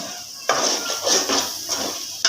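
A spoon stirs egg curry in a cooking pot over a low flame, giving several close scraping strokes against the pot in an uneven rhythm, with no talking.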